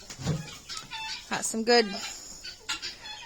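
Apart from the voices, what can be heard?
chickens and turkeys clucking on poultry farm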